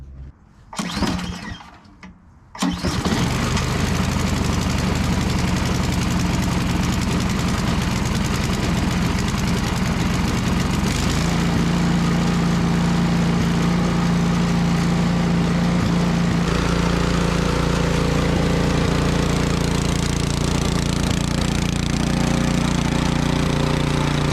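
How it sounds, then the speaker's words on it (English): A 2015 Ariens snowblower engine starts and settles into a steady, loud idle while warming up, a continuous low rumble with a rough mechanical drone and no talking. "what I'm gonna do first is turn it on and let it warm up for 2 or 3 minutes"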